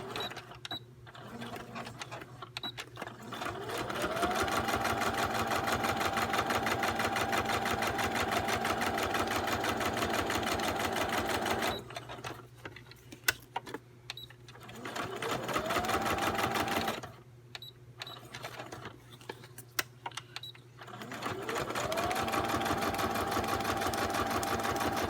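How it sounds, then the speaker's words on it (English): A sewing machine stitches envelope pockets in several long runs, a steady mechanical whir broken by short pauses and light clicks between seams, close and fairly loud. "I'm going to sew here, here, here, here."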